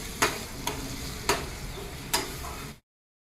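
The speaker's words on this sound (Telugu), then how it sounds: "చూడండి, సిమ్లోనే పెట్టుకొని దీన్ని వేయించాను." Grated mango pickle frying in oil in a pan over a low flame, a steady soft sizzle broken by four sharp stirring clicks of a spoon against the pan, close and fairly quiet, with no talking.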